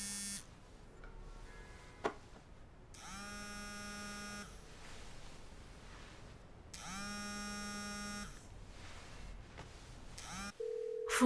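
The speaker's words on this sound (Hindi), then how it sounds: "फोन उठाओ जल्दी।" Telephone ringing in repeated electronic bursts, two long harmonic rings with shorter tones between, loud and close indoors, with no voices over it.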